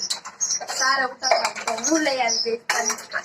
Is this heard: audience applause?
no